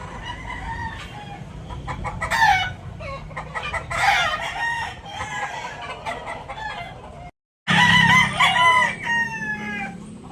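A white hackle bulik gamecock rooster crows loudly several times nearby, mixed with clucks and softer fowl calls, with a short gap of silence before more crowing.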